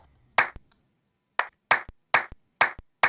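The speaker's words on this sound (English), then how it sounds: "Let's put a clap on it." Dry clap sample layered onto a Dariacore snare, struck six times in a stop-start pattern with short sharp hits and silent gaps between them. Each hit is followed by a brief click.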